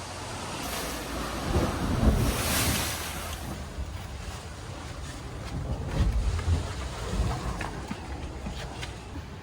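Strong ocean waves break on the Boracay Island shore. The surf swells and crashes in uneven surges, with wind buffeting the microphone at a moderate distance.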